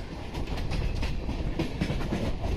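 Pinakini Superfast Express train running on rails, a steady loud rumble with rhythmic clickety-clack of wheels over joints throughout, heard from on board with no talk.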